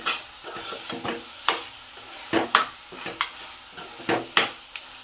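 Masala powder gets stirred into a pan of mutton curry with ginger, bringing repeated scraping strokes of a spoon against the pot over a soft sizzle, close and moderately quiet, with no voices.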